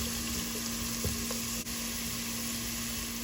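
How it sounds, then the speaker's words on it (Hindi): Carrots fry in hot ghee in a pan, giving a steady, dense sizzle that holds at an even level throughout, close and alone without any talking. "अब इसी घी में मैं डालूंगी ये गाजर। एक मिनट के लिए मैं इसे फ्राई करूंगी।"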